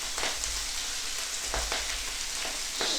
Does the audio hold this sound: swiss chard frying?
yes